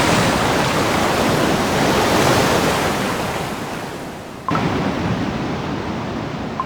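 Loud, dense ocean surf roars steadily in a Cookie Run Kingdom mermaid cutscene, a broad continuous wash that swells, eases slightly, then cuts abruptly to a fresh layer of waves, with no voices over it.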